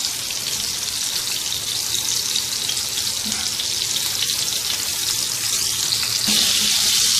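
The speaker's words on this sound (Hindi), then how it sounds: "फ्राई करते हैं। एक साइड फ्राई हो गई है इनकी अच्छे से।" Chicken burger patties frying in oil, a loud, dense, continuous crackling sizzle that holds steady throughout and swells slightly near the end, with no voices.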